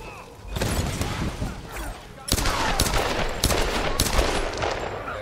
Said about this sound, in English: Obviously, we just have to shoot these barrels.